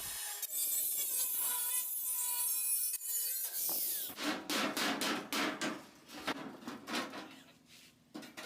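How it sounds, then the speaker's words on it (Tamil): Scraping and rhythmic hacking as a marked section is cut off a barrel while building a retro-style electric car, with a steady whining tone first, then a run of sharp, close strokes. "இந்த மார்க் பண்ண இடத்த மட்டும் கட் பண்ணி ரிமூவ் பண்ண போகிறோம்"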